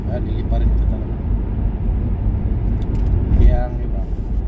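Cars driving past on a snowy road in an Edmonton snowstorm, a steady low road rumble with a voice talking over it.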